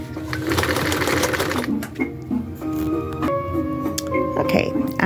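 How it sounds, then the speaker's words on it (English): A Kenmore 1755 sewing machine stitches through denim, its motor running steadily for the full stretch with a rapid needle rhythm, close and fairly loud, while a person talks over it. "Kenmore 1755 has absolutely no issues with sewing this lovely"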